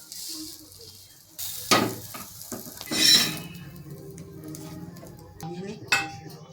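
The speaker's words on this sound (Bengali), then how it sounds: "এরকমভাবেই সব ভেজে নেব লাল লাল করে" Egg paratha fries in a pan with a soft sizzle underneath, punctuated by a few sharp knocks and scrapes of a utensil against the pan.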